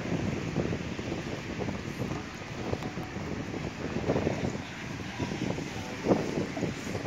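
Steady wind at Venice Beach buffets the microphone in a constant low rumble, with gusts swelling and easing throughout and no voices present.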